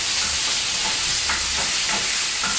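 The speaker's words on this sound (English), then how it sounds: "while frying that at high heat, proceed to mix" Chicken sizzles steadily in a hot pan over high heat, a constant bright crackle with occasional stirring scrapes, close and unbroken by speech.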